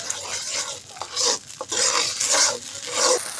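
Scraping and rasping strokes of a spoon stirring a chickpea spice mixture with lemon juice in a pan, repeated rubbing sweeps at close range with a light sizzle underneath.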